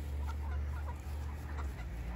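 Chickens cluck softly in short, scattered bursts over a steady low outdoor rumble, with no one talking.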